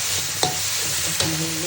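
Spices frying in a pan for a beef brain curry sizzle steadily up close, cut by two sharp scrapes of a spoon stirring them, with no voices.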